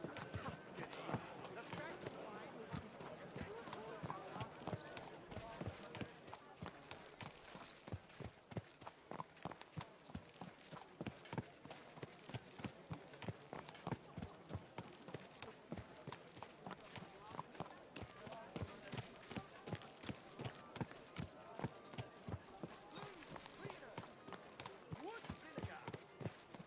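Steady rhythmic hoofbeats of a horse clip-clopping in a medieval video game, continuing evenly throughout with voices talking over them.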